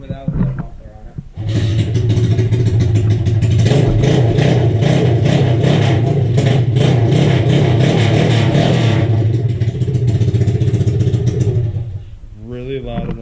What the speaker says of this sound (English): Bobby wants to see what it sounds like without the muffler on it